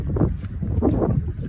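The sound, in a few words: strong wind blowing outdoors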